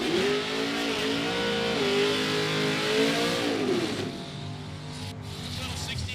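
Drag racing at Sick Week in Bradenton: a 1968 Camaro and a Mustang rev hard and accelerate, engine pitch climbing and dropping in loud, continuous waves before easing off, with a faint announcer-like voice underneath.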